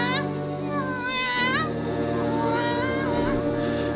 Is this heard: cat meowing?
yes